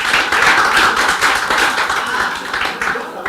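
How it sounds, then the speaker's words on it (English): Audience clapping for a boy at a gender-based violence awareness event, dense steady applause held loud throughout the short stretch with no talk over it. "Clap for him."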